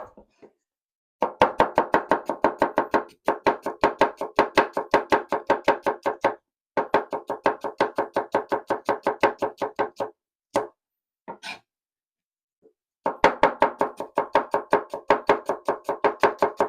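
Onion sliced finely with a knife on a chopping board, rapid even bursts of crisp knocks in several runs separated by short pauses, close and clear with no talk.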